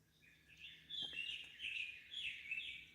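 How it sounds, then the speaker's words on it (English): Outdoors by Bull Shoals Lake, birds chirp in bright, repeated trilling phrases, fairly close and clear over a quiet background, coming in three swelling bursts. "The birds are chirping."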